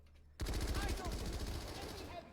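Rapid SMG fire in a competitive shooter match erupts after a short quiet lead-in, a loud, dense, sustained stream of close shots that runs to the end.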